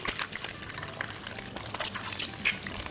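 Whole boiled eggs sizzle in hot oil in a pan, a steady crackling hiss with brief sharper pops, close and moderately loud with no talking.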